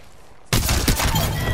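Gunfire in the Apex Legends video game erupts abruptly after a quiet moment, a loud, dense volley of rapid shots that continues without pause.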